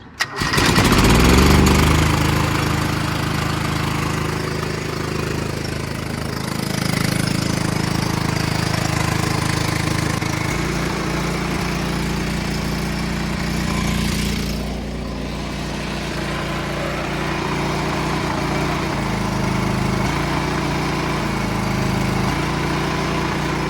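A John Deere 425 lawn mower engine cranks and fires, then settles into a loud, steady running rumble that shifts slightly in pitch as it keeps going, close up with no talking.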